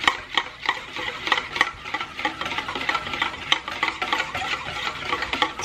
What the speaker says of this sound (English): it's been a couple minutes and I'm just whisking it together.